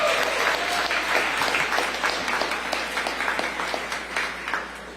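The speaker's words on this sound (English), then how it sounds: "let's give it a round of applause." An audience at Mayor Bill de Blasio's announcement of a citywide NYC program expansion breaks into a sustained, fairly loud round of applause that tapers slightly toward the end.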